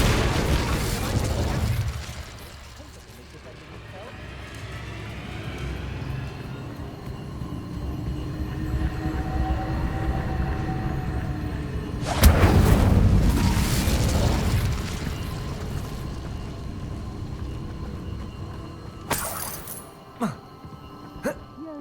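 The Incendio fire spell in Hogwarts Legacy starts with a whooshing burst, then a long roaring rumble. A second loud blast follows midway and a sharp crack comes near the end.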